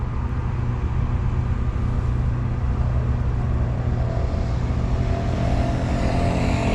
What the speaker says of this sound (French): le scooter est passé en plein milieu de la plaque